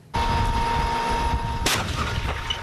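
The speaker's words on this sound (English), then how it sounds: "Weighing in at 70 tons and armed with a 120mm cannon, the M1 Abrams battle tank has long been the iron fist of America's ground forces." An M1 Abrams battle tank, a 70-ton vehicle with a 120mm cannon, fires with a sudden loud boom that rolls into a sustained rumbling blast, then a second sharp report.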